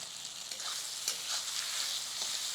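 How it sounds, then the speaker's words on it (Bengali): Tomato and onion fry with chili paste and garlic for a crab and potato curry, a close, steady sizzle with light stirring and no voices. "এখন আর একটু কষিয়ে নেব"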